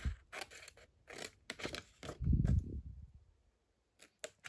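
Scissors snip through paper while angle-cutting the sides of a handmade mini journal pocket, a series of close, crisp cuts with short pauses, ending in a few quick final snips after a brief quiet gap.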